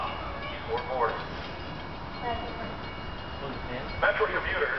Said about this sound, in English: The next eastbound Metra train to Chicago is now arriving in your station.